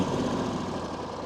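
A small pull-start engine runs roughly and close by, a continuous rattling, knocking chug with no voices over it.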